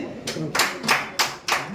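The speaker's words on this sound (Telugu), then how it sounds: "క్లాప్స్ అండి" Hands clap in a steady rhythm of about five loud claps, close by, with voices murmuring underneath.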